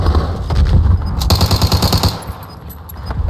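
Loud bursts of rapid automatic gunfire fill a shooter video game, with dense volleys of shots rattling close by for a few seconds before thinning into scattered pops.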